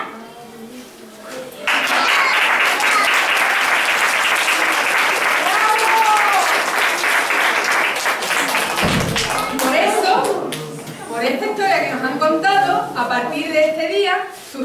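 An audience applauds actors after a children's Three Kings play, loud sustained clapping starting after a short pause and running on, thinning out toward the end as voices and scattered claps take over.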